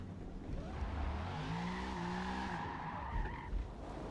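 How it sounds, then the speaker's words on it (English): In a driving video game, a car drifts in cockpit view as its tires squeal and skid continuously, with sliding tonal whines over a steady engine roar throughout. "this is a little bit of in cockpit view of drifting here"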